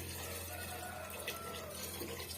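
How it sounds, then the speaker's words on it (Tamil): Steady running water pours continuously into a cooking pot of lentils for sambar, a soft broadband splashing stream with no talk. "இப்ப தேவையான அளவுக்கு நம்ம வந்து தண்ணி வந்து சேர்த்துக்கலாம்"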